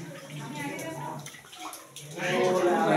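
Water drips and runs inside Shawmlai cave near Cherrapunji, a close, splashy wash that grows louder toward the end, with people talking over it.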